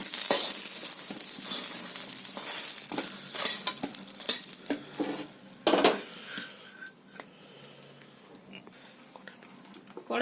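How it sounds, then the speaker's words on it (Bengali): Eggplant frying in a pan in a home kitchen gives a close sizzle, broken by scraping stirs and clinks of a spatula against the pan. It fades toward the end, with no talk. "বেগুনটা আমার ভাজা হয়ে গেছে"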